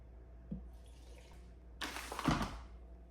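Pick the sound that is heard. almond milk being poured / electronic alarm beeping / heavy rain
almond milk being poured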